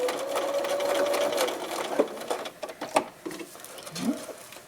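A sewing machine stitches across the short end of a fleece scarf, a steady close whirring run that breaks into short stop-start bursts and clicks.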